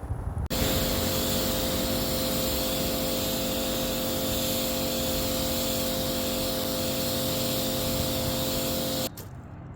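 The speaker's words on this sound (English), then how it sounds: "I'm going to start jet washing now" Petrol pressure washer jet washing a block paving driveway at a house, a loud steady engine drone with continuous hissing spray that starts abruptly and runs unbroken for about nine seconds before cutting back, no talking.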